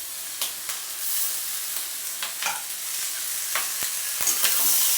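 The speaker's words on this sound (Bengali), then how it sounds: "এবার আমি মিশিয়ে নিচ্ছি।" Spices and bay leaves being stirred in a hot frying pan: scraping stirs come in short irregular strokes over a steady close sizzle of oil, with no voices.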